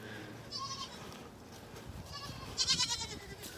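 Goats bleat in a farm pen, several wavering calls rising over steady background noise, the loudest near the end, moderately close with no talk.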